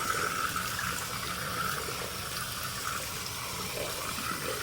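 Water runs steadily and loudly from a tap while a dirty K&N pod air filter is rinsed clean, a continuous even gush with no talk.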